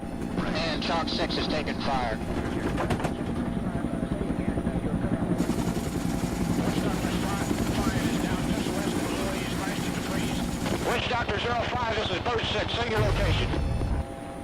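Vietnam War military helicopters fly in toward a landing zone, their loud rotor and engine drone continuous throughout, with a French narrator talking over it and sharp crackling bursts near the end.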